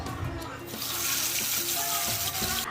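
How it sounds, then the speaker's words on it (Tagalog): Tilapia seasoned with salt and pepper frying in a pan, a dense continuous sizzle with a bright hiss throughout, close and fairly loud, some faint tonal background sounds. "Iprito ang tilapia."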